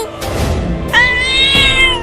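A big cartoon mother cat meows loudly and close, two drawn-out tonal cries with a brief lower call before them, standing alone without talk.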